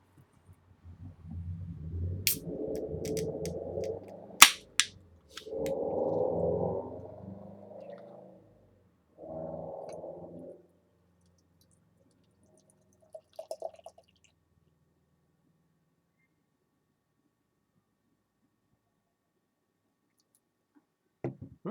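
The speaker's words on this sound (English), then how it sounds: "so let's go and pour this one out" Hana Koa Dually Dank West Coast IPA glugs out of the can into a glass in three gurgling pours separated by pauses, followed by faint fizzing and a few soft clicks, then near silence.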